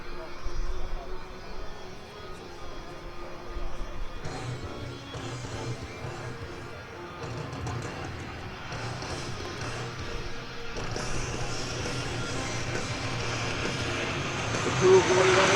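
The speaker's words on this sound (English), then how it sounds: "you see the massive 4-engine C-130J Hercules inbound for landing with a load of vehicles for the assault force" Four-engine C-130J Hercules inbound for a tactical short-field landing at an air show, a broad continuous propeller-engine roar that builds louder toward the end, heard from a distance.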